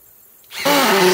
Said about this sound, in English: This is their subcompact impact driver.